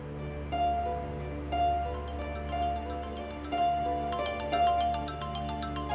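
A phone rings at a game night among guests, a repeating electronic ringtone pattern with regular bursts over a steady musical bed, no talk heard.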